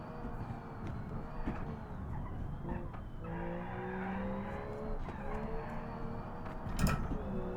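Revving car engine in BeamNG racing game, a Group A-style built Geo Metro with a high-revving engine, droning steadily with pitch shifts during gear changes and tire skid squeals, loud and close throughout.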